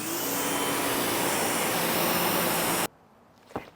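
Water spray rinsing the paint of a Mitsubishi Evo, a loud, close, continuous hiss for about three seconds that cuts off abruptly, followed by a faint brief knock.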